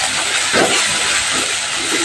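Tomato sautés with spices in a hot pan, producing a loud, steady hiss of sizzling that holds up close for about two seconds without speech.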